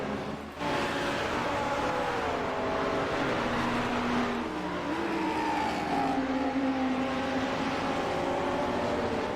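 GT3 race cars, a Ferrari, McLarens, a Lamborghini and an Audi, scream around Imola in a racing game, with engine notes rising and falling steadily and continuously from start to finish, loud and close, with no talking.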